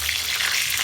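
Whole cumin and garam masala spices frying in hot oil in a wok give off a steady, dense sizzle with a constant crackling hiss. It holds at an even loudness throughout and no one speaks.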